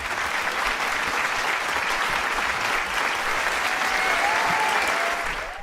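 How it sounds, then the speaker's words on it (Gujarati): Audience at a Gujarati comedy show breaking into sustained applause, a dense, steady clatter of many hands clapping together for several seconds without letting up. "આ બધી તમે તાળીઓ તમે બધા ભેગા થઈને પાડી."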